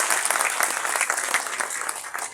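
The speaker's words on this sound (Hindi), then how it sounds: "भाई वाह, तालियां कमजोर, तालियां आपकी कमजोर।" An audience at a Hindi-Urdu poetry gathering (kavi sammelan and mushaira) claps in a steady, dense burst of applause that runs through the whole stretch.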